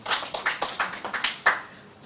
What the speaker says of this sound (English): Another round of applause for Mitchell.